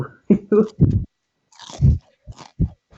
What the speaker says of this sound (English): oh my goodness, that chewing sound